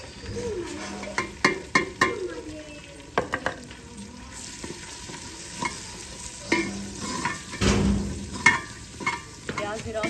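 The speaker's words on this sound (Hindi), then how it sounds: "घी ज़्यादा गर्म हो गया है। अभी डालते हैं पहले प्याज।" Onions dropped into overheated ghee fry with a soft sizzle, broken up by frequent stirring scrapes and clinks of a utensil against the pot. The bursts come close and irregular, with no talking.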